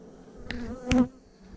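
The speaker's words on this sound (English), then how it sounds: "That bee stung me." Bees buzz close around an opened hive during setup, a short steady drone with two sharp louder passes as individual bees fly near, and no talking.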